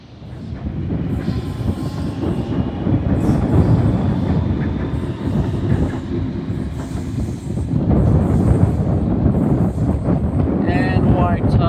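A Sydney Waratah train pulls into platform 5 at Redfern station. It makes a loud, sustained rumble with rail noise and some wind buffeting, and voices or an announcement sound under the approach.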